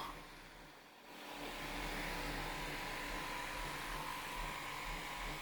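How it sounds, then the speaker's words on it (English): A steady whirring hum of an electric fan in an RV that swells up after a moment and then holds constant, fairly quiet with a low droning undertone. "I think it's the fan making that noise."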